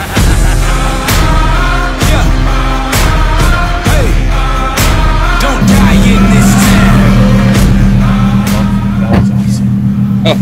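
Ferrari race car driving at Raceway West Palm Beach, its engine roaring loud and close with rising revs and gear changes, under pop music playing throughout.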